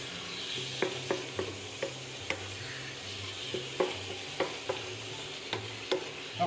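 Pork stir-fried with sliced bamboo shoots in a pan: a soft continuous sizzle broken by regular clinks and scrapes of the utensil tossing the food, close and fairly quiet.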